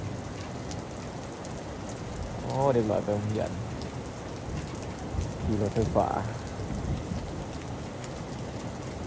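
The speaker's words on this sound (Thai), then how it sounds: "ฝนตกทั้งวัน" Steady heavy rain from a typhoon pours throughout in Xaisomboun, Laos, a dense hiss with a few louder patches, while a person speaks briefly twice over it.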